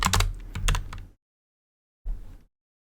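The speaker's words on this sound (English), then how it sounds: "We're typing things here." Rapid clicking keystrokes on a computer keyboard, a dense burst of close typing, then a pause of silence and a second short flurry of keys.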